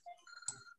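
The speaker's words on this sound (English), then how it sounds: "I get a phone call right in the middle of all that" A phone rings with an incoming-call ringtone, a short bright electronic melody with a sharper accent near its middle, heard clearly on its own with no speech.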